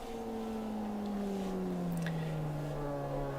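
Low, steady engine drone from a Formula Trout car in a sim-racing sprint series at Paul Ricard, the pitch sliding slowly downward as it holds a continuous note with no talk.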